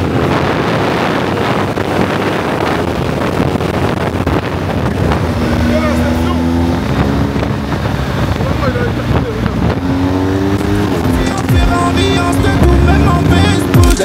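Steady BMW GS 1300 Adventure motorcycle engine drone on a highway with heavy wind rush, a rising and falling motor pitch as it speeds along, with a voice speaking in French over it.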